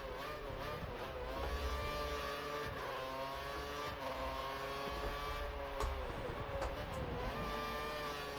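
A Formula 1 car in the racing video game F1 2013 at the Singapore Grand Prix, a high-pitched engine whine rising and falling through gear changes as another car passes, steady and droning throughout.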